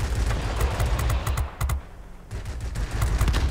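Warplane machine guns in World of Warplanes rattle in loud, rapid bursts over a steady engine drone, the fire breaking off briefly before resuming.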